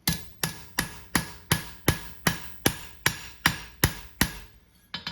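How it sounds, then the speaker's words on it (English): A farrier strikes a steel horseshoe with the flat face of a hammer, eleven sharp ringing metallic blows in an even rhythm about half a second apart, close and clear with no talking. "hit it with my flat side of the hammer."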